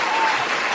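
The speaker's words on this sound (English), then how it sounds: "I give you a hand clap for that" A crowd applauds in a dense, loud burst of clapping, brief and continuous with no separate claps distinguishable.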